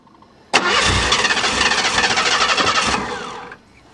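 A starter motor cranks a car engine that has sat unused for two or three weeks, started with a screwdriver, in a fast, rhythmic whir for about three seconds, then cuts off without the engine catching.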